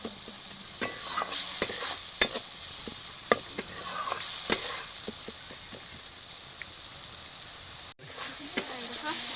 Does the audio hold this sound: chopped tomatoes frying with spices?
yes